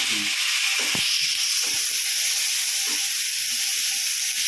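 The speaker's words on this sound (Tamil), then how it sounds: "தக்காளி போடுறேன் கருவேப்பிலையும் போடுறேன் கருவேப்பிலை கொஞ்சம் வதங்கிட்டேன்" Tomatoes and curry leaves sizzle in hot oil in a pan for Brinji rice, a steady close hiss running throughout with a few soft clinks and stirring scrapes.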